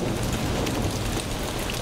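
Heavy rain pours with thunder rumbling, a dense, loud, continuous downpour hiss over deep low rolling, with no voices heard.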